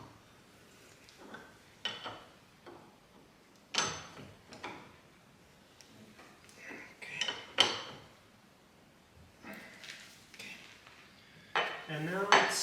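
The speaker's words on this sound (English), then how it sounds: "And now 36mm socket. I'll first drive it with this one." A 36mm socket being fitted and turned on the fork nut of a 1977 BMW R75/7 motorcycle, sharp metallic clinks and clatters in scattered bursts at close range, with quiet pauses between.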